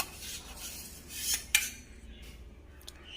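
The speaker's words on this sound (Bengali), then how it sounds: "খুলে এবার আলুগুলো মিশিয়ে দিচ্ছি" Potatoes stirred into mutton in an opened pressure cooker, a spoon scraping and clinking against the metal pot in a few short strokes.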